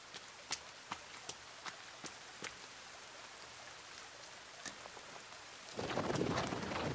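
Rain keeps falling in the survival video game The Forest, with a steady hiss and sharp, crackling thunder cracks repeating at the start, ending in a louder rumbling roll of thunder.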